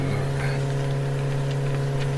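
An engine hums at a steady mid pitch as a motorcycle sound effect in a radio drama. It runs continuously and sounds close, with no one speaking.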